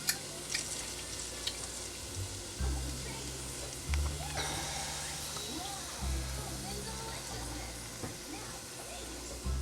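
Onions sizzle in butter in a frying pan, a steady close hiss of frying with occasional stirring scrapes and low hum underneath, continuing evenly throughout.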